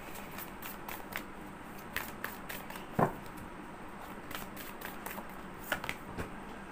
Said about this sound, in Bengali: লেটস এখান থেকে একটা কার্ড বার করবো